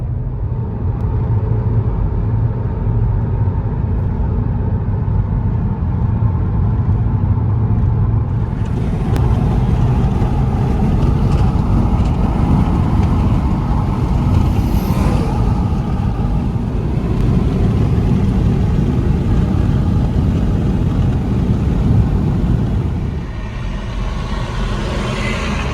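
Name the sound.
2021 Hyundai Elantra SEL exhaust with muffler delete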